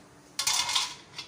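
Chopped bottle gourd drops into a metal pressure cooker in a home kitchen, making one short, bright clatter that fades within a second. No one speaks.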